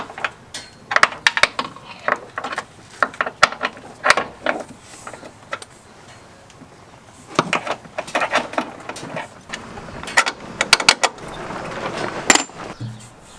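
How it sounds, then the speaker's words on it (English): A wrench working on suspension bushing bolts of an Acura RSX, with scattered metallic clicks, ratcheting and clanks in irregular bursts and short pauses between them, close by. "I'm gonna go grab some wrenches really quick and get these things pulled off."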